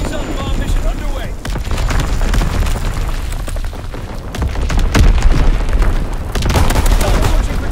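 Bomb blasts and artillery fire in a strategy video game, dense rumbling booms and crackling explosions rolling continuously and loudly, with a synthetic radio voice calling out orders over them.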